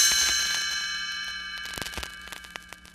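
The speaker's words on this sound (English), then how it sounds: "You will know it is time to turn the page when you hear the chimes ring like this." Bright chimes ring out as a page-turn signal for a read-along storybook, a few clear metallic tones that shimmer and decay over a few seconds, close and alone.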